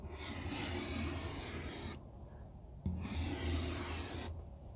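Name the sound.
scraping frost off a D9H bulldozer window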